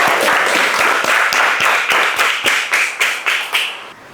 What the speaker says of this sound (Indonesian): kasih aplaus buat Ananda